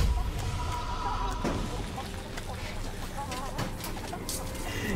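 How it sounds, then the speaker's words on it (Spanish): A chicken skin for the champion Galio in a video game gives repeated clucks and bird calls over busy game effects, while someone talks throughout. "Suena una gallina ahí."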